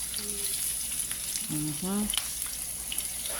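Food frying in a wok in a home kitchen, a soft continuous sizzle with a few brief tonal clinks and squeaks over it, close by and fairly quiet.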